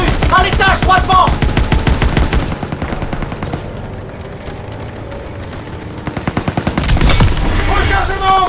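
Dense rapid machine-gun bursts and rifle fire in the World War II shooter Call of Duty WWII, loud and close, pausing briefly mid-clip for quieter distant shots before a heavy volley resumes.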